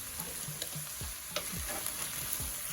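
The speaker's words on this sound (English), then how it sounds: "Go ahead and mix that all together." Noodles get tossed and mixed with flavoring in a hot pan over a constant sizzling hiss, with repeated soft scraping and sliding strokes at an uneven rhythm, nearby and without talk.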